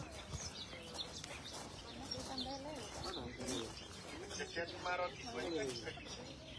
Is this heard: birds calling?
yes